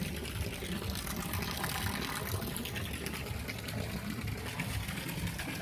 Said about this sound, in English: Pool is looking good, water's running in.